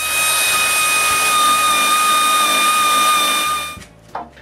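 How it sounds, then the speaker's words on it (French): Power drill boring screw holes into a wooden nightstand top, a loud, steady whine with a constant pitch that stops abruptly near the end, followed by a brief clunk. "je perce les trous pour les vis qui vont retenir le dessus"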